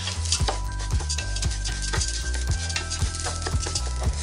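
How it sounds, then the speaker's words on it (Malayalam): Raw rice being dry-fried and stirred in a pan over medium-low flame for Thalassery chicken dum biryani, giving steady sizzling with regular rattling scrapes of grains against the pan, close and alone. "ഇപ്പോൾ അരി ഫ്രൈ ആയി വന്നിട്ടുണ്ട്. കിലുങ്ങുന്ന രീതിയിലുള്ള ഇങ്ങനെ ശബ്ദം കേട്ടാൽ നമുക്കറിയാം ഇത് കുക്കായിട്ടുണ്ടെന്ന്."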